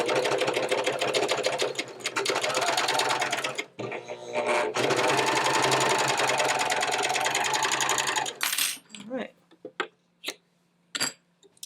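Juki MCS-1500 or MCS-1700QVP cover stitch machine sewing with a German binder attachment, a loud, steady mechanical whir running continuously with a brief pause, then stopping into a few scattered clicks and handling noises.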